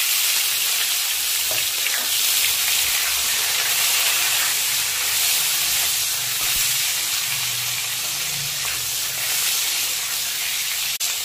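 Mustard seeds crackle and splutter in hot oil in a pan before mango pieces and tomatoes are added, a dense, steady close sizzle with faint popping and no talking.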